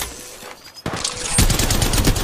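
Rapid gunfire from the Apex Legends Mobile video game, a loud dense burst of shots that swells in the second half with no talk over it.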